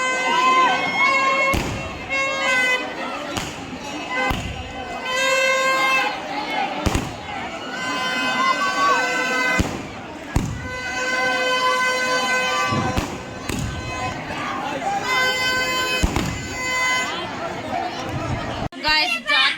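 Firecrackers go off at a village temple fair at night, with sharp cracks and bangs repeating irregularly over a busy crowd murmur and nearby voices.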